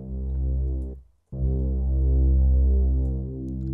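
A deep, sustained synth bass tone, dark and muffled with the highs filtered away, drops out briefly near the start and then swells back steadily.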